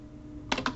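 Keystrokes on a computer keyboard as a stock ticker symbol is typed: a quick burst of about five close, distinct clicks after a brief quiet stretch.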